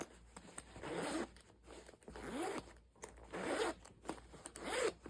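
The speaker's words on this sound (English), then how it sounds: "And then listen to the zipper." A metal zipper is pulled back and forth several times, each pass a rasping, rising zip, close and clear with short pauses between strokes.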